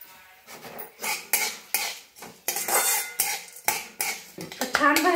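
Cloves being dry-roasted in a little oil in a metal pan, with repeated clinks and scrapes of a utensil against the pan in an uneven rhythm, close and fairly loud.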